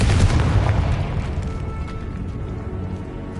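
A Confringo spell explosion in the video game Hogwarts Legacy, a loud deep boom up front that fades into a rumbling, crackling tail over a few seconds.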